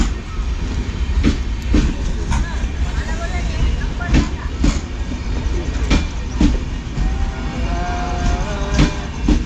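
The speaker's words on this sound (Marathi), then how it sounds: "पुणे गाडी आली, पुणे" A Pune–Madgaon passenger train rolls into a crowded station with a steady rumble and rhythmic clacking of wheels over rail joints, joined by brief metallic squeals and a crowd murmuring nearby.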